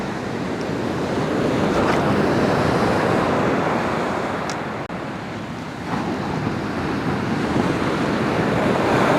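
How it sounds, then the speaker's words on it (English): Ocean waves break steadily on a steep beach, a loud continuous wash of surf with wind buffeting the microphone throughout. "So much for low chances of sneaker waves."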